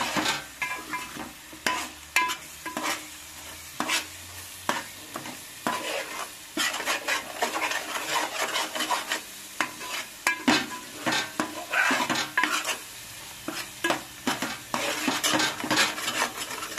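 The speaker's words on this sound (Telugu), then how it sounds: "అడుగు అంటకుండా మళ్ళీ కలుపుతున్నానండి." A frying mixture is stirred repeatedly in a pan so it will not stick. A spoon scrapes and knocks against the metal in uneven bursts over a continuous close sizzle.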